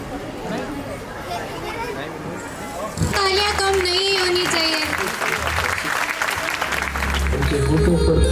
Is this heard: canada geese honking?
no